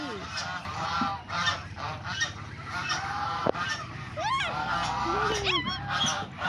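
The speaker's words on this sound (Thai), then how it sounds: "มีเป็ดด้วย มีห่านด้วย แล้วก็มี แล้วก็มีไก่ด้วยนะ" Geese and Muscovy ducks at a farm pen honking and calling repeatedly, several close, loud squawks and rising honks over a steady background of farmyard noise.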